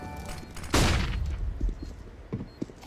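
A flashbang grenade goes off in CS:GO with one sharp, loud bang that fades into a lingering ring, followed by a few soft thuds and scuffs.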